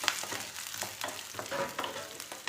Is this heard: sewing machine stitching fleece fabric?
no